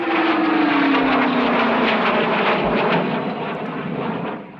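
A loud jet aircraft roars steadily overhead in a 1960 television episode, its engine whine sliding slowly downward in pitch before the noise begins to fade.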